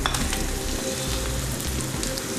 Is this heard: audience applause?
no